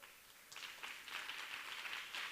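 Faint, distant applause from a crowd, a continuous patter of many hands clapping that swells slightly toward the end.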